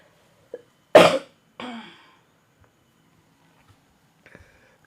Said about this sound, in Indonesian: aduh pengen batuk lagi